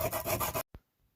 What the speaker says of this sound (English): So just a light little scuff using a pretty aggressive sandpaper